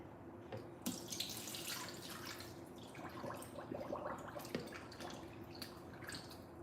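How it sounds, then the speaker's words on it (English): Tap water runs into a sink while sea moss is rinsed by hand, a steady close splashing stream with irregular drips and sloshes, no talking. "Got the sea moss. I'm gonna do one more good rinse."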